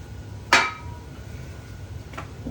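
A single sharp metallic clank of a 10 barbell weight plate being set down, loud and ringing briefly, followed later by a fainter second clink over a low room hum.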